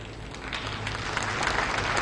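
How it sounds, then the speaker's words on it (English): Applause swells from a ground control center as astronauts open the hatch into the Tiangong-2 space lab, a steady wash of many hands clapping at a distance that grows slightly louder over two seconds. "you can hear the applause coming from the ground control center"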